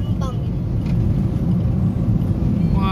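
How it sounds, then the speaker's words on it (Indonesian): A new bus rushes past fast in slow Indonesian traffic, a loud broad engine rumble and road roar that stays steady and close throughout, with a voice talking over it. "Wah, kencang banget busnya."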